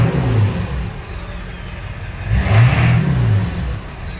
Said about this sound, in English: some nice exhaust note for you guys.